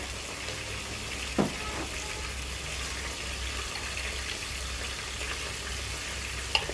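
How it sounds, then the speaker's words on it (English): Onions frying in oil with curry powder for a mackerel fish stew, giving a steady low sizzle and bubbling at moderate volume, with a couple of brief clinks from a utensil against the pot. "Fry for about 3 to 4 minutes or until it is translucent"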